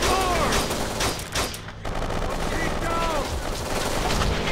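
Gunfire in the video game Kane and Lynch 2, a loud, continuous clatter of shots and impacts with a brief dip in intensity, backed by faint game noise and a voice in the mix.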